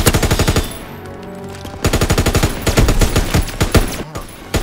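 Rapid automatic gunfire in a PS4 video game, bursts of dense repeated shots with a short lull in the middle before firing resumes loudly to the end.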